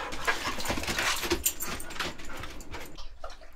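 An excited female dog whimpers and pants close to the microphone indoors, with soft rustling and a faint jingle, the sounds fading toward the end.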